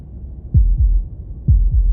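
Heartbeat sound effect in the video game Slay the Princess: two low, thudding lub-dub pairs of beats, close and heavy, with a faint hum between them and no voices.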